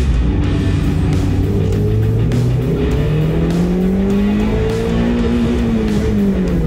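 A Mazda MX-5 laps the Nurburgring, its engine droning loud and close throughout with pitch rising and falling through gear changes, along with faint tire and wind noise.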